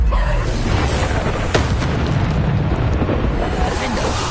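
A Bombarda spell explosion in Hogwarts Legacy gives a loud, rumbling blast followed by sustained booming debris noise, dense and close, lasting several seconds.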